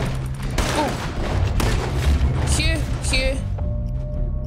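Gunfire in Red Dead Redemption 2 during a boat heist shootout, with loud booming shots and crashes in quick succession amid game noise, while people talk over it.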